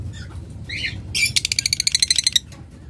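A pair of opaline lovebirds kept for sale, squawking in a quick run of sharp, shrill calls close by, starting with a few scattered squawks and then a rapid rhythmic burst of about a dozen harsh notes.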